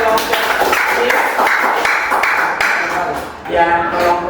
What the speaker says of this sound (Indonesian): silakan tepuk tangan untuk kelompok C